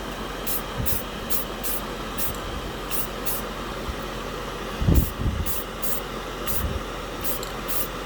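A spray can of universal bonding primer is sprayed onto a plastic scale model piece in a series of short hissing bursts, close and fairly quiet.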